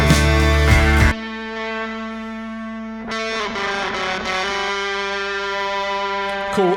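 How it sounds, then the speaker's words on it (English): Gritty, distorted guitar tones sit on top of clean, lush guitar layers in a rock mix, sustained chords ringing loud and dense throughout with a brief break near the middle. "kind of nasty guitar tones superimposed on top of really clean, lush guitars"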